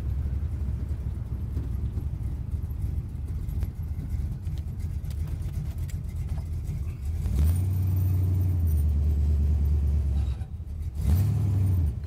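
A 1972 Chevrolet Camaro SS big-block 454 V8 idles with a deep, steady rumble, then revs up in two strong throttle blips, loud and close.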